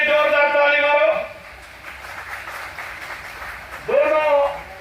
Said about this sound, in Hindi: उनके लिए जोरदार ताली मारो